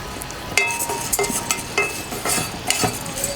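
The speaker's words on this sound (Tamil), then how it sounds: "இன்னொரு பேன் எடுத்துகிட்டு இந்த கிர்னி விதையை வந்து வறுத்து எடுத்துக்கலாம்." Melon seeds are dry-roasted in a pan for laddu. A spatula rattles and scrapes them around in quick, repeated strokes against a light background hiss.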